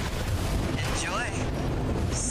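Heavy bombardment explosions from the Armored Core 6 video game, a continuous dense rumble of blasts and booms with a whistling streak partway through, loud and sustained, with a voice faintly under the din.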